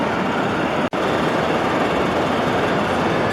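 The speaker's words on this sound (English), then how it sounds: "sometimes you can see 5 locomotives pulling the consist." G gauge model train running on a large indoor layout, a steady loud rolling rumble of wheels on track with a brief dropout near the start, no talking.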